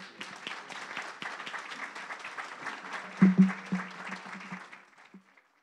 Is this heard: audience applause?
yes